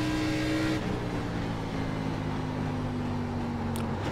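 A race car in the iRacing sim, an ARCA stock car at New Hampshire, drones at steady high engine pitch, the tone dropping slightly and settling after a brief shift early on, loud and continuous with no voices.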